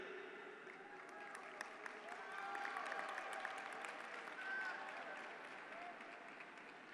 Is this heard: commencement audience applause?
yes